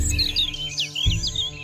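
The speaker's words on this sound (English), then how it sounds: "we have the very best dawn chorus right here in Britain" Dawn chorus birdsong in the British countryside near Aldeburgh, with several birds warbling and chirping in quick overlapping phrases over a low steady background hum; no talking.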